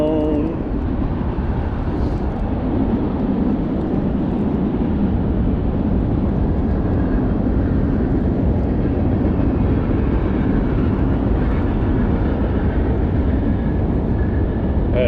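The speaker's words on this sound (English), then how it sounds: "That train behind me, so apologize for the noise." A train rumbles past behind a river lock and dam, a loud, continuous broadband roar that persists steadily throughout without breaks or voices.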